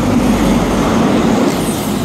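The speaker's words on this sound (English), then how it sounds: "We have the 10:09 Great Western Railway service to Swansea." A Great Western Railway train passing through Bristol Parkway station on the South Wales Main Line gives a loud, steady rumble of wheels and motors with a low hum running throughout.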